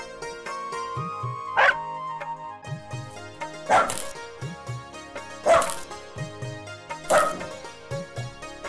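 A puppy gives four sharp, spaced barks over a steady bed of music, each yelp short and fairly close.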